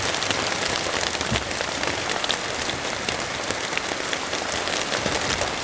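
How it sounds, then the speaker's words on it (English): Heavy rain, the first in two months, pours steadily on surfaces at a hilltop home site in the Philippines, a dense, constant hiss with no pauses. "Whoa, that is the first rain in 2 months."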